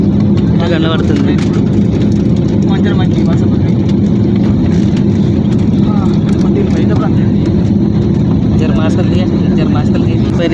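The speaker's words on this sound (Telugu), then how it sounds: "ఇప్పుడు లేచింది ఫ్లైట్ మీదికి" An airliner climbing out of Ahmedabad, heard from inside the cabin as a loud, unbroken engine roar with a low rumble, while a voice talks over it.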